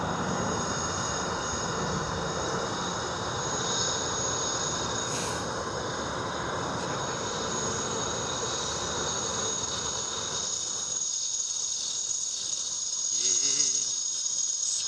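A helicopter near Seattle's Boeing Field gives a broad, steady rotor and engine roar that holds for a long stretch, then fades and thins toward the end.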